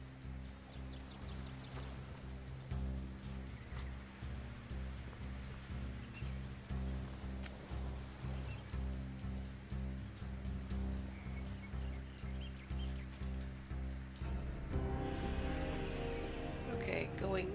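Waves on a beach in the Divinity: Original Sin video game, soft rhythmic surf washing in and out over a steady musical backing, quiet and even.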